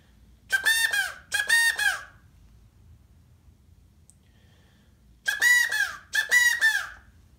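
A homemade quail call blown in two pairs of short squeaky chirps, one pair early and another after a silent pause, each note a bright, rising-falling bird-like whistle, clear and close with no talk.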